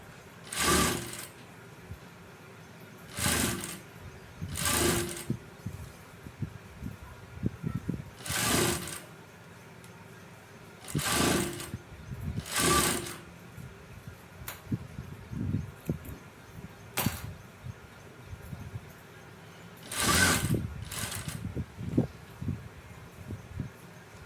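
A sewing machine stitching fabric piping runs in repeated bursts of rapid whirring, each lasting about a second, with quiet handling and clicking between them, close and clear.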